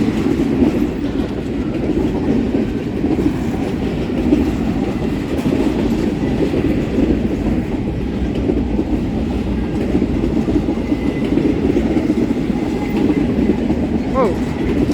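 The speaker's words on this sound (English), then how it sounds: "This is probably gonna be the last train." A train running on rails close by, a continuous loud rumble with rhythmic clatter that continues throughout, with a faint wheel squeal near the end.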